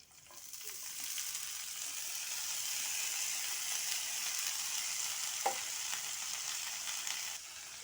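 Chopped onion and green chili fry in a pan as cabbage goes in, making a steady, bright sizzling hiss that holds even throughout with a faint stray knock or two.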